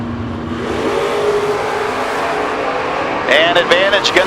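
Drag race cars, including a box-bodied Mustang, roar loudly in a sustained engine blast that swells and revs harder near the end, with a commentator talking over the din.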